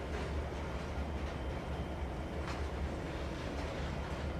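A diesel train in Trainz 2022 climbing a hill in notch 4, a steady low engine rumble and rolling wheel noise that stays moderate and even, with faint rail clicks and no voices.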